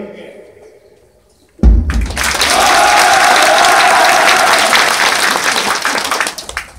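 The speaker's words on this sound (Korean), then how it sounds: "북이 올릴 때마다 한 마음 한 뜻으로 다 함께 큰 박수 부탁드리겠습니다." Loud crowd applause at a ceremonial send-off bursts in after a quiet moment and a deep thump, then holds as a dense, even roar of clapping for several seconds before starting to fade.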